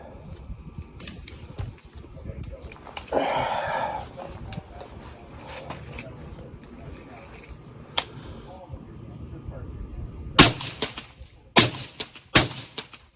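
Rifle gunshots firing 110 grain Hornady XTP bullets at 100 yards, several sharp loud cracks in quick succession near the end, with earlier faint reports and outdoor rustle between.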